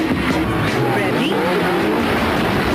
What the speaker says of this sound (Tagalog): Get set? Go! Drag racing.